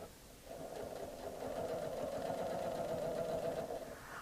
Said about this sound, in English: I'm going to put the needle down and I'm going to go ahead and lift the presser foot with the knee lift and stitch again